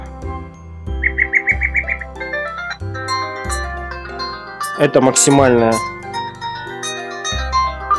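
A ringtone melody plays from the rear loudspeaker of a ZTE Nubia Z5S mini phone, a bright, mid-loud tune with a short trilling motif and a busier passage. A brief word is spoken at the start.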